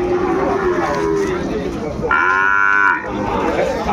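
At a Dinajpur livestock market, Sahiwal cattle give a loud, drawn-out moo close by, over the steady murmur of a busy crowd.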